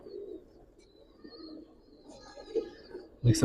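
A Giribaz pigeon, a favoured tournament-flown bird, coos in brief low bursts, faint and spaced apart in a quiet setting, before a sudden loud noise cuts in at the end.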